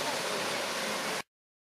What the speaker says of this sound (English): Coming into the Nancytown Falls area.